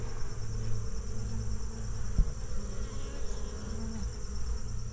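Honey bees drone around hives in a bee yard, a constant, close buzzing hum that fills the scene with a brief knock partway through and no talking.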